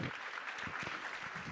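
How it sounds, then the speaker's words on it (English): Audience applause at a high school orchestra and jazz band concert, a fairly quiet, even wash of clapping from the crowd that carries on without a break for a short stretch. "everybody a round of applause?"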